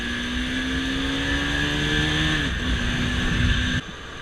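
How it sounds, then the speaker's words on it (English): A Bajaj Pulsar AS200 motorcycle engine pulls steadily and loudly with a smooth, sustained drone that climbs slightly in pitch, then cuts off abruptly near the end, with no voices. "the engine is best above 5000 RPM"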